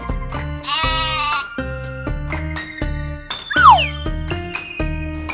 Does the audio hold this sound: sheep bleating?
yes